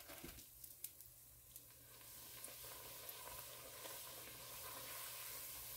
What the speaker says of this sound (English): Literally took just a couple seconds to fry up some Oreos